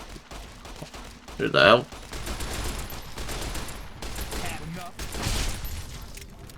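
Gunfire and a dynamite blast in Fallout: New Vegas, with a loud broadband burst near the start followed by rolling combat noise and scattered shots, while someone speaks over it.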